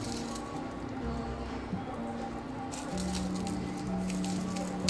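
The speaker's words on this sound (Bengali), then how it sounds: "রসুনের কোয়াগুলো ছাড়িয়ে নেব" Garlic cloves being peeled by hand, a soft, quiet crackle and patter of papery skins rustling and splitting close up, continuous and faint with no talk.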